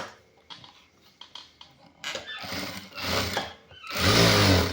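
A sewing machine stitches a seam on a half-sleeve shirt with three buttons, first in short stop-start bursts, then in longer, louder runs of rapid mechanical whirring up close.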